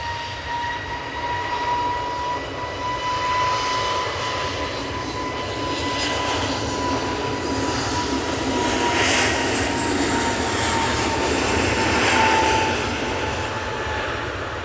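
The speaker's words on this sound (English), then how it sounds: "Emirates A380 coming in from Dubai" An Emirates A380 on approach from Dubai passes overhead, a loud sustained jet roar with a steady whine that swells gently toward the end, close by and alone without speech.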